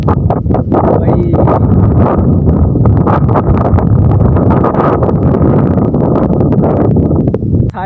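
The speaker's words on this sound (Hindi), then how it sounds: "देख सकते हो किस कदर हवा है" Strong wind buffets the microphone at a forest campsite, a loud steady roar of gusts with rustling and flapping, likely from the tent, and no talk.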